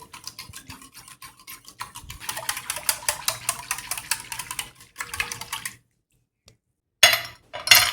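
A wire whisk beating raw mango drink (aam panna) with roasted cumin and black salt in a bowl, rapid close rhythmic clicking and swishing strokes that pause briefly, then a few final louder taps.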